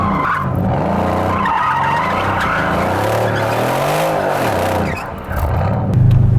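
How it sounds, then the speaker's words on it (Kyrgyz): The rear tyres of a Mercedes C63s AMG in sport mode spin and squeal loudly, the engine roaring under a wavering, sliding screech that rises and falls for several seconds, then ends with a deep rumble. "светофордо турганда, спорт режиминде газды бассаңар, арткы дөңгөлөктөр чимирлегенде угасыңар"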